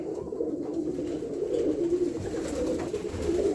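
Domestic pigeons cooing continuously inside a pigeon loft, a close, dense chorus of low throaty coos and soft murmurs with faint rustling, and no voices.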